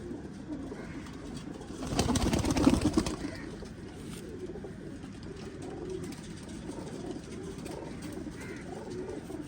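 Soft, low pigeon coos murmur in the background, with a brief louder rustle early on and otherwise a steady faint ambience.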